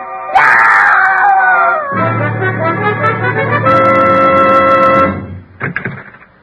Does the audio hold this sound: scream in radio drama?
yes